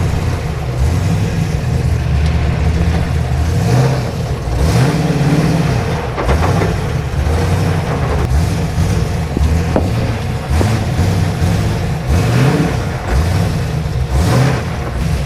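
An LS3-swapped Nissan 240SX accelerates while driving, with a steady loud engine drone that rises and falls through gear changes under heavy wind rush, and no talking.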